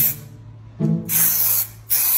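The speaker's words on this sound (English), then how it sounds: "I'm spray painting." An aerosol spray paint can hisses in three bursts, each a broad, bright blast of pressurized spray separated by short pauses, up close and loud.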